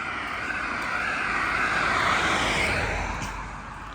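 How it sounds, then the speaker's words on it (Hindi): A road vehicle drives past on an outdoor walk: a broad engine and road rumble swells to a peak mid-way, then fades as it moves off, with no talk over it. "गाड़ी चल रही है ज़रा"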